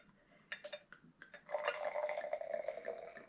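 Prosecco is poured onto meadowsweet syrup in a glass: a few clinks and drips at first, then a steady fizzing, bubbling pour close by, fairly quiet.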